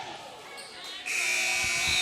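A long, loud electronic buzzer sounds to end the quarter at a girls' high school basketball game in a gym, starting about halfway through after crowd murmur and continuing to the end.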